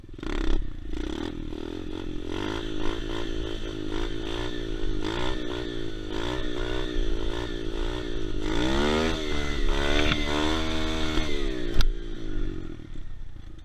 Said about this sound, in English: you just kind of pop the clutch, give it a little gas, and just let that baby go